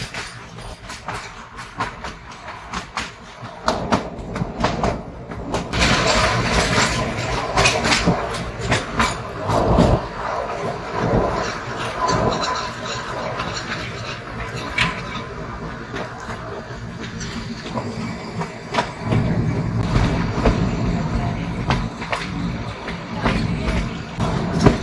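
The Kalka–Shimla toy train rolls along the mountain rails near Kandaghat, its wheels clattering in an uneven rhythm over a rumbling, hissing bed that grows louder and stays close throughout.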